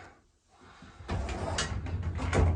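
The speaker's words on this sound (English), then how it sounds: "you can see the door hanger and the roller mechanism up there" A 1920s Art-Deco Llewellyn Iron Works elevator at an apartment building in Los Angeles, its door hanger and roller mechanism rumbling and rattling as the door slides, a near, steady mechanical roll that grows louder midway with clunks toward the end.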